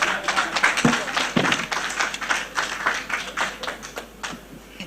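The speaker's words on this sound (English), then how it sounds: "Fatih is smiling, so please keep clapping for her." An audience claps for Fatih, a woman giving the vote of thanks at a women's economic advancement gathering; scattered, moderately loud hand claps run steadily throughout with no talk over them.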